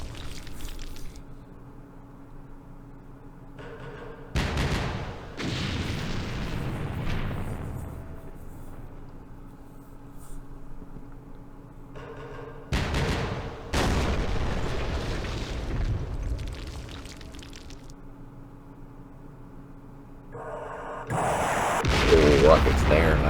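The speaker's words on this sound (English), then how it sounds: "Now, why is it artillery firing there?" Artillery fire in the wargame Campaign Series Vietnam, Battle of Pleiku 1968: several loud booming bursts arrive in clusters, broad blasts that decay over a few seconds between stretches of low ambient rumble, with a voice talking in between.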